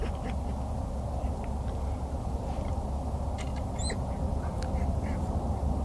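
A few faint duck quacks sound at a distance over a steady rushing background noise.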